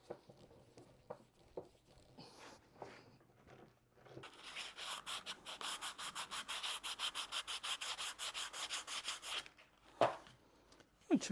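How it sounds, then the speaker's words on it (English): Sandpaper rubbed by hand along the edges of a wooden block for a camper build, a steady close, rhythmic scratching that runs for several seconds after some quieter handling noises, then stops. "I took a little sandpaper just to clean up the edges"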